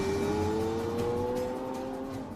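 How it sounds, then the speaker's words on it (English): A Lamborghini Aventador supercar on a road test drives past with a steady, loud engine drone, its pitch rising slightly and holding for a couple of seconds before easing off. "each Aventador must undergo one final phase: the all-important road test"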